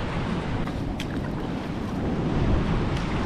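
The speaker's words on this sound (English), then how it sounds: "There are waves here too." Ocean waves at the Bay of Islands break on rocks in a constant, loud, broadband wash of surf, with wind buffeting the microphone.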